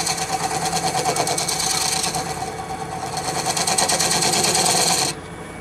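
Steel scraper working a short-stack wood bowl spinning on a lathe, a steady loud buzzing, rasping drone with a rapid rhythmic chatter that runs unbroken for about five seconds, then drops to a quieter hum as the cut ends.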